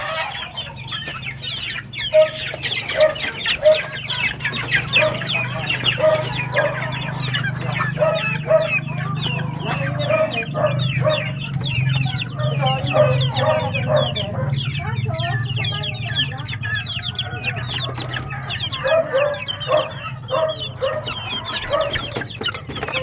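Chickens cluck steadily and repeatedly, close by, over a low humming background with faint voices at times.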